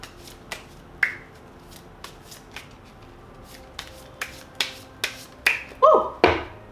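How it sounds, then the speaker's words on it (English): Repeated crisp riffles and snaps of a card deck being shuffled, spaced irregularly and growing louder and busier toward the end, with no talking. "just knock the energy out of the cards and then shuffle as many times as you want"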